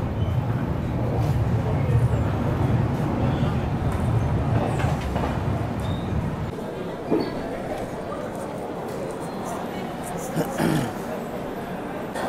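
The Vivek Express running from Dibrugarh to Kanyakumari, heard from inside a second AC coach as a steady low rumble of wheels with a few louder knocks. The rumble eases partway through.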